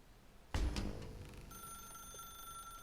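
A telephone rings in The Stanley Parable: Ultra Deluxe, a sudden clattering burst followed by a steady electronic bell tone that holds on, fairly faint, with no talking.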